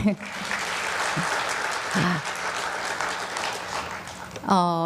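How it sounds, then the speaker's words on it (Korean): Applause from a church congregation during a training lecture, a dense, sustained round of clapping with a few brief voices over it and a speaker's voice coming in at the very end. "박수 한번 주시죠."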